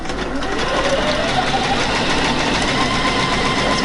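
A Juki DX7 sewing machine runs steadily, a loud, fast, even mechanical whir and chatter of the needle mechanism close by, continuous with no talking.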